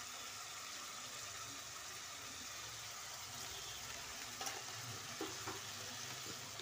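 Soaked coriander and cumin sizzle in a hot pan, a steady broadband frying hiss with a few soft clicks and stirring taps, fairly faint and without speech.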